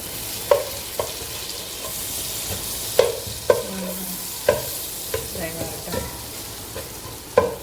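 Cumin seeds sizzle in hot oil in a pan for butter chicken, a steady soft frying hiss broken by sharp clinks of a spoon stirring against the pan.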